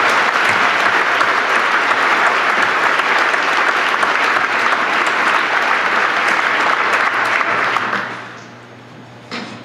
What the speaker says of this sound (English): So how about another big round of applause for our two scholar athletes.